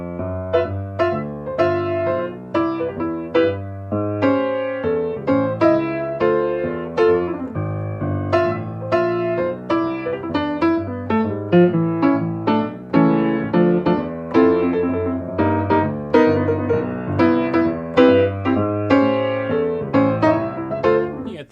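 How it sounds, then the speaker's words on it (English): Jazz walking bass line in a four-feel, played with the left hand on piano: steady quarter-note bass notes moving continuously under chords throughout, with no pauses. "that's the four-feel, also called a walking bass line"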